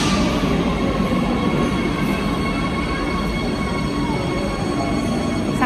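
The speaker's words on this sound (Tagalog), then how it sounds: "dito na kami sa train station" A train at a railway station in Spain rumbles steadily close by, with faint squealing overtones from the wheels and a continuous loud roar throughout.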